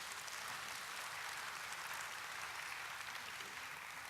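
A church congregation breaks into steady, dense applause, a continuous wash of many hands clapping at close range with no voices standing out.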